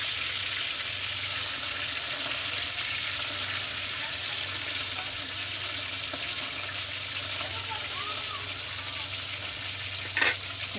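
Fish fries in hot oil in a pan with a steady, dense sizzle and crackle, with occasional pops of splattering grease, close and continuous throughout.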